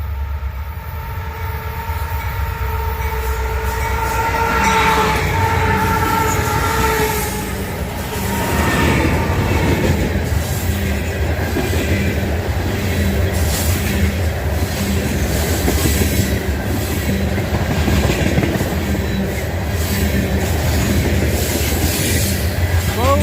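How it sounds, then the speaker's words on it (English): A fully loaded northbound grain train hauled by three locomotives rolls past close by, a steady loud rumble of wagons and wheels with faint squeal, clatter and a brief horn-like tone early on. "Fully loaded grain train headed north."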